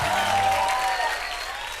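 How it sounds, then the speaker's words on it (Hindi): An audience on a comedy show set applauds, loud continuous clapping with faint tonal music or cheering lines mixed in, easing off slightly toward the end. "गोविंदा जी के लिए जोरदार तालियां हो जाए।"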